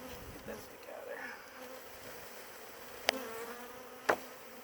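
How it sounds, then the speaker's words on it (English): Honey bees from a newly installed bee package hum in a steady close buzz, with a few individual bees sweeping past the microphone in louder, brief passes. "That's a lot of bees."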